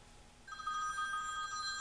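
A telephone bell starts ringing partway through, a bright, steady electronic trill that carries on at moderate volume with no talking over it.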